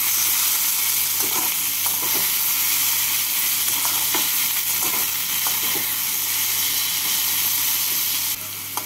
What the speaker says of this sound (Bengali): টমেটো কুচি দিয়ে পেঁয়াজের সাথে নাড়াচাড়া করে নেব।